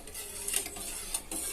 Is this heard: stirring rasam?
yes